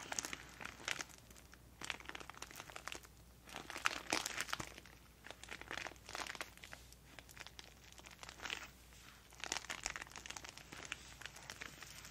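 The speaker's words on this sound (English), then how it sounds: "Trying to give you as much crinkles as possible." Purple packaging from a stationery haul crinkled and crumpled close up in repeated bursts of crisp rustling and crunching, with no talking.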